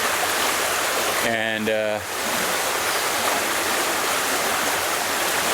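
Water of the Maas river in Maastricht rushes steadily in a constant broadband wash throughout, with a brief voice speaking over it.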